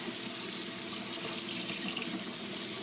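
Steady, unbroken rush of water from a tap into a sink while a 1930s bias-cut black evening gown is rinsed, close and even throughout with no talk.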